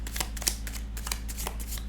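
Tarot cards are shuffled and drawn, producing quick, soft riffling and flicking close by with a faint steady hum underneath and no talking.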